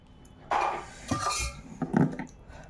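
Cutlery clinks and scrapes against plates as someone eats a meal of pea dal with radish and tomato, several close, bright knocks and rattles in short irregular bursts.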